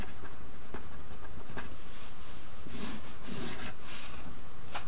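Handwriting during a math lesson on percent increase and decrease, a scratchy marker or pen rubbing across a board in short close strokes over about five seconds, with no talk.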